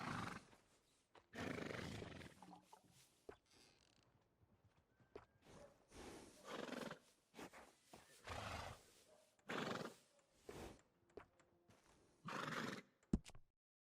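Horses in the Red Dead Redemption 2 video game whinny and snort repeatedly in loud, close bursts, with clip-clopping hooves and creaking tack between the calls; no speech.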